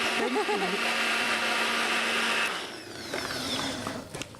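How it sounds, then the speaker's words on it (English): A motorized whisk or hand mixer whirs steadily as it whisks a mixture, loud and continuous, then cuts off partway through, leaving quieter clatter behind. "And then we're going to whisk. Smooth it up."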